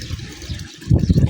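Water arriving through a household pipeline and pouring in for filling, a short uneven gurgling rush that swells louder near the end, close by with no talk.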